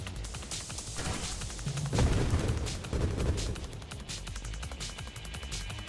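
Rapid bursts of gunfire in a roguelike game, dense overlapping shots with booming impacts, loudest in the middle and continuing throughout.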